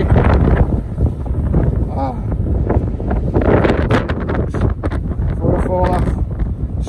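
Strong wind buffets the microphone on the rocks of a harbour by the Irish Sea, a loud, constant roar with gusts, while a person speaks over it.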